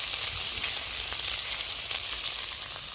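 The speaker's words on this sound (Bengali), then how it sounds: "এই যে মাছ ভাজাগুলো করছি" Parshe fish fry in a pan with a dense, continuous sizzle that stays loud and even throughout, with a few faint stirring scrapes and no talking.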